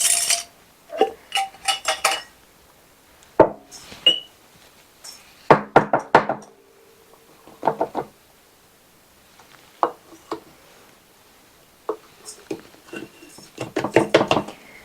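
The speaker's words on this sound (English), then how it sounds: "I may have to switch out jars." Glass pantry-mix jars knock and clink in scattered bursts, some single taps and some quick rattling clusters, close by with quiet gaps between.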